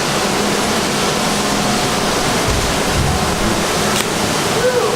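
Inside a brewery, mash is pumped over to the lauter tun, giving a loud, steady rushing wash of noise like running water that fills the whole stretch, with a voice faintly under it.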